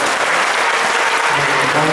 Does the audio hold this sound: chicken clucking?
no